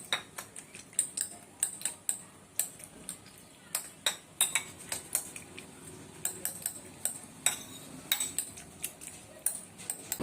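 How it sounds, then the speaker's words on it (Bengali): A fork rapidly beats a batter seasoned with salt and water in a bowl, giving many quick irregular metallic clicks and taps that run steadily for about ten seconds with no one talking. "এবার আমি এটা ভালো করে ফাটিয়ে নেব। কাঁটা চামচ দিয়ে ফাটালাম"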